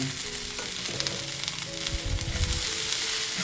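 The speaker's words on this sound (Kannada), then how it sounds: "ಈರುಳ್ಳಿನ ಚೆನ್ನಾಗಿ ಇವಾಗ ಫ್ರೈ ಮಾಡ್ಕೊಂಡಿದ್ದೀನಲ್ಲ" Onions fry in a pan with a close, steady sizzle and crackle, joined by a few soft stirring scrapes and low clatter from the pan.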